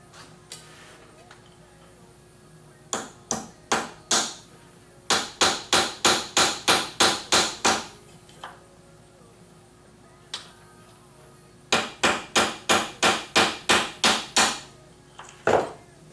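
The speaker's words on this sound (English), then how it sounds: "I'll just go ahead and hammer it down just a little bit to make it" A hammer strikes a metal cable stake in rapid, evenly spaced blows, with short groups of three or four strikes and longer runs of about eight, loud and close against a quiet background.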